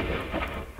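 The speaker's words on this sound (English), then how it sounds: "What is the super lightning storm?" A super lightning storm in the video game Solar Smash, heard as a short, continuous low rumble of thunder with a rain-like wash, sustained and fairly loud for under a second.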